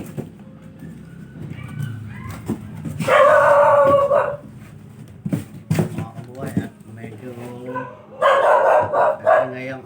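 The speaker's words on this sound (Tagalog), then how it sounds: "Ang aso natin" A dog barks in short bursts at close range while people talk nearby, the barks standing out loudly over the conversation.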